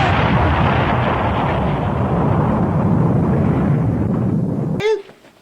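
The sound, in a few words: explosion from Transformers Headmasters cartoon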